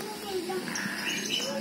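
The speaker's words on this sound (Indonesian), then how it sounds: "Kebetulan ada suara-suara burung yang sangat" Birds chirp and sing with high, clear, repeated notes in an avocado orchard, heard at moderate distance over a soft ambient background with faint voices.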